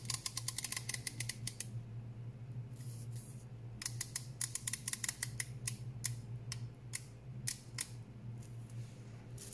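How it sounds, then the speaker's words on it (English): The grind-size adjustment ring on a 1Zpresso K-Plus manual coffee grinder is turned, giving rapid runs of crisp, close clicks in bursts with short pauses over a low hum. "This clicking sound."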